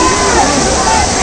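A temple waterfall pours in a steady, loud rush of water, broad and constant with no break, with faint voices murmuring somewhere beneath it.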